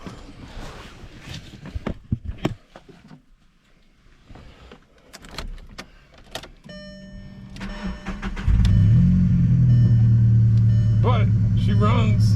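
A Volkswagen engine cranks and catches, then settles into a steady, loud idle, following some shuffling and movement nearby, with a voice speaking early on.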